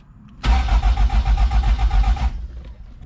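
Toyota 4AGE engine in an AW11 MR2 cranking without firing, a loud close starter churn with rapid rhythmic pulses lasting about two seconds before stopping abruptly.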